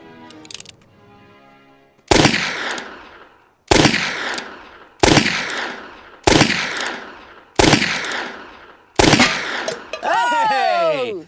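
Gunshots from a film scene of shooting at cans ring out in a steady series of six loud, sharp cracks with ringing tails, ending in metallic pings and a ricochet-like whine.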